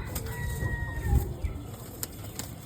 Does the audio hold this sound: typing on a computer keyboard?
no